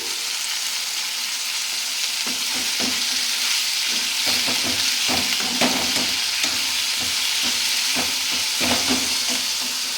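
Mint leaves frying in a hot pan for mint-tomato chutney, a dense continuous sizzle with intermittent stirring clinks and scrapes close by, no voices.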